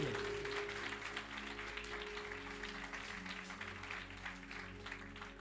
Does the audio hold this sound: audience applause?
yes